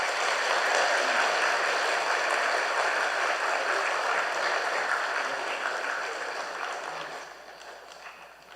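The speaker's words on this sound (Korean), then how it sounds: "우리 뜨거운 박수로 환영합시다" Sustained applause from an audience at a political lecture hall, welcoming a guest speaker, broad and steady throughout before thinning toward the end.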